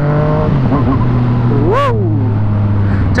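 A Yamaha MT-09 sport motorcycle engine hums loudly and then revs in a quick rising and falling whine before settling back to a steady idle.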